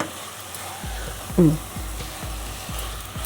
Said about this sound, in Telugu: ఇట్లా గట్టిపడేంత వరకు మనము బాగా వేయించుకోవాలి